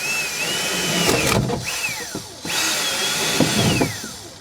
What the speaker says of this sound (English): I'm gonna drill a hole right there